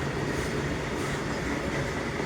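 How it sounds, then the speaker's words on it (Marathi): A long freight train rumbles steadily nearby at Manjari station, a continuous heavy roar with faint rail clatter and no voices. "तुम्ही बघू शकता केवढी मोठी ट्रेन आहे"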